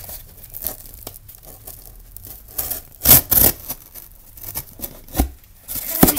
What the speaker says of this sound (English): an X-Acto knife isn't exactly easy, because this cardboard box is harder to cut than normal